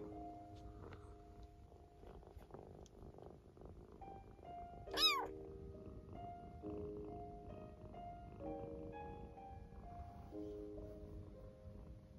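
A rescued kitten gives a single short, high meow partway through, heard quietly against a low background of soft rumbling and faint tonal hum.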